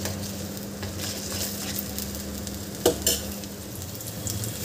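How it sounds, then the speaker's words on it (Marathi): Masala paste cooks in oil over medium-high heat as a constant close sizzle, with a spoon scraping the pan and a couple of sharp metallic clinks midway, no voices. "इथे मी गॅस मीडियम टू हाय केलेलं आहे आणि हे आपल्याला वाटण शिजवून घ्यायचं आहे"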